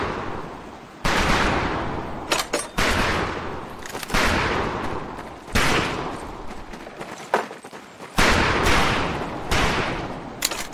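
Rifle shots crack at a shooting range in Medal of Honor: Pacific Assault, about eight loud, sharp reports at irregular intervals, each ringing out and decaying before the next, with no talk over them.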